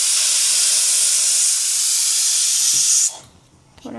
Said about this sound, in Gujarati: આમાં આપણે થોડુંક પાણી નાખી દઈએ.